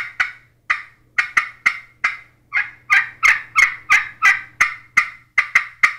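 A slate turkey call played with a striker gives a series of sharp, raspy turkey yelps and cutting calls, repeating in quick rhythmic bursts, loud and close, with no voices.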